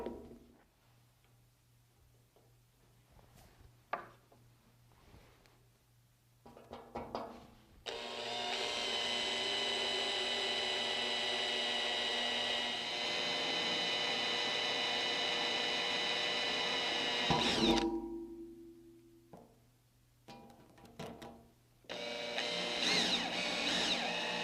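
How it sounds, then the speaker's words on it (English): A drill boring a small pilot hole into an oiled metal part of a Delta Unisaw being restored, a steady high whirring grind lasting about ten seconds, then quieter handling clicks and a second short burst of drilling at the end. "We first want to drill a small hole as a pilot hole before we drill a larger hole"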